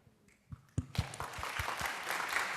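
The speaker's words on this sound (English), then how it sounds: "No, the clap is deserved." A lecture audience breaks into clapping after a few scattered early claps, building into a fuller round of applause that grows steadily louder toward the end.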